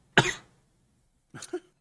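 Two close, sharp human coughs, the first stronger and trailing off, the second a shorter double burst about a second later, heard alone with no talk around them.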